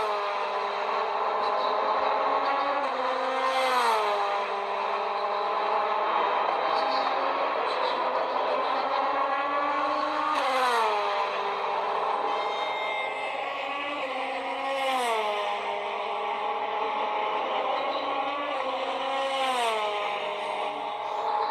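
A simulated race car engine effect from a Carrera 1:32 slot car app plays continuously, revving up and down in repeated sweeping cycles, loud and steady with no talk over it.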